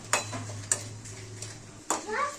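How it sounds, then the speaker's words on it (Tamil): Dried chilies roasting in a pan for Tamil fish rasam, a faint low sizzle broken by a few sharp scrapes and taps of a spatula against the metal, with no one talking. "சோ மிளகா நல்லா வெந்துட்டு இருக்கு. வறுத்துட்டு இருக்காங்க அம்மா."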